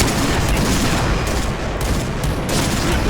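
Rapid, dense gunfire bursts in the shooter game Point Blank, loud and continuous over about three seconds with brief dips, and no voices.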